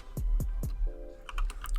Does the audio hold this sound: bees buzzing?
no